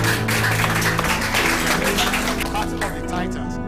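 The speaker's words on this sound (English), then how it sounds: "Round of applause for Sophia, ladies and gentlemen." Audience applause at an event, a dense, steady wash of clapping that stays loud throughout, with voices mixed in beneath it.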